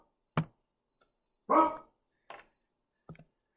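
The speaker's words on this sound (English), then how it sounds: "Oh, my dog is going crazy here." An excited dog barks indoors in four short, sharp bursts separated by quiet pauses, moderately close, with no talking.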